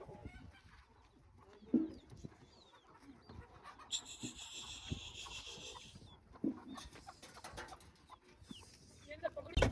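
Chickens and roosters cluck softly and in scattered bursts as they file into their coop, heard faintly at close range. Low voices and occasional rustling sit underneath.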